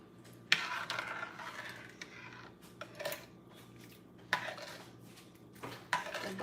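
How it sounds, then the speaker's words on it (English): Rice with butter being stirred in a cooking pot, a utensil scraping and knocking against the pot in a few separate bursts over quiet background, close and moderately loud, with no speech. "And here we stir."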